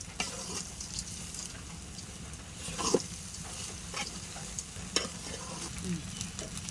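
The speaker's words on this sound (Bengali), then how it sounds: "আদা বাটা, দুটো দারচিনি দিয়ে একসাথে একটু মিশিয়ে নেব ভালোভাবে" Ginger paste and cinnamon sticks stirred in oil in a cooking pot, a faint soft sizzle under intermittent scraping strokes and a few light clicks of the spoon against the pot.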